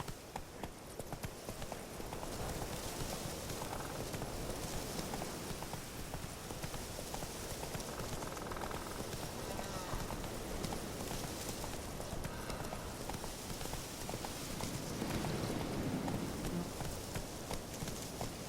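Hooves of the horse Roach in the video game The Witcher 3 clip-clop in a quick, continuous rhythm throughout, moderately close and steady, with no talk over them.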